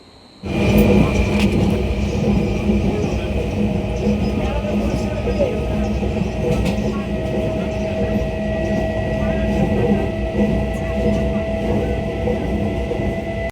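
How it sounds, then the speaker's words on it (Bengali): A train pulls into a station platform on a 10:40 service, a steady loud rumble of wheels and carriages with a sustained high squeal and hum running throughout, continuous and close. "তো 10টা 40-এ আমাদের ট্রেন, তো ট্রেন একটু পরেই ঢুকবে"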